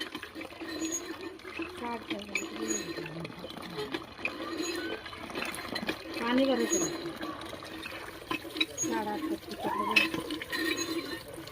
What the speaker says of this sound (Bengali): দেখো বন্ধুরা এবার কুড়গুলাকে ধুয়ে নিব